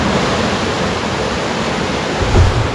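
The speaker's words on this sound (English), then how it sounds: "Pigpen Falls is that one that's right there that you can see." Steady broadband rush of water pouring down at Pigpen Falls on a hiking trail, a continuous close roar filling the scene with a brief swell near the end, no voices.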